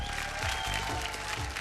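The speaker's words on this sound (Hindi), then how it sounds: "जोरदार तालियों से स्वागत करी" A television show audience applauding a guest being welcomed: a brief, dense burst of clapping with no pauses.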